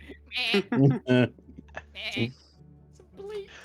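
Goats bleat in distress, several quavering, wavering cries close by, coming in quick bursts with short gaps and a slight echo.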